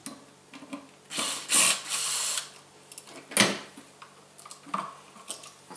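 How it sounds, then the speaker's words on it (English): Screws being undone on a Bryant Electric USB charger receptacle, with close metallic clicks, scrapes and brief ratcheting tool sounds in irregular bursts. "Undo the screws."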